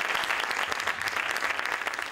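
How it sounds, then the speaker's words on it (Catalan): An audience applauds in a hall at the closing of a horror film festival, with steady, dense clapping that continues without a break for the full two seconds. "Vull dir que només per això es mereix un gran aplaudiment."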